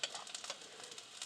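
Turmeric and other spice powders frying in a pan give a soft, faint sizzle with light stirring scrapes over about a second.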